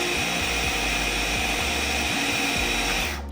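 A kitchen blender whirs steadily as it mixes homemade Baileys Irish Cream, a continuous loud motor drone with rhythmic low churning pulses, running alone before cutting off at the end.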